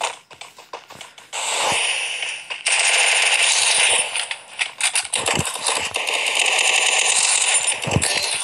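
Rapid bursts of automatic gunfire from the Free Fire video game, loud and close, with dense rattling volleys and short gaps between bursts.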